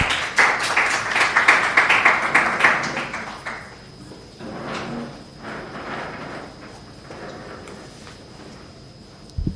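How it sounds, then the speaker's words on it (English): An audience applauds to welcome a speaker at a clinical research session, with dense, loud clapping for about three seconds that then thins into scattered, quieter claps and light room noise. "Shall we welcome her with a round of applause?"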